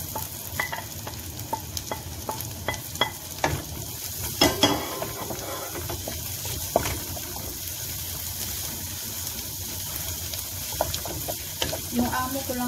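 Garlic and onion fry in a pan with a steady sizzle, and scattered clicks and scrapes of stirring cut through it. The cooking stays close and moderately loud, with no talk over it.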